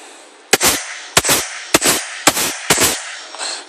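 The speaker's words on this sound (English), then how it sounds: "Project Salvo shooting test. Semi-automatic right now." Five sharp semi-automatic gunshots from a Project Salvo shooting test fire at a steady pace, each one a loud crack followed by a short echoing tail, with no talk over them.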